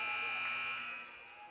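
A steady electronic buzzer sounds at the end of a quarter in a high school basketball game between Los Fresnos and Brownsville Hanna, a sustained tone that fades slightly toward the end amid gym noise.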